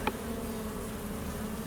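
Honey bees hum steadily around an open hive during an inspection, a faint continuous buzz with one brief sharper sound near the start and no talking.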